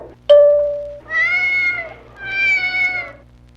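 A cat-like alien creature in a Star Trek audio drama gives three distinct meows, a short sharp cry followed by two longer drawn-out ones, loud and close.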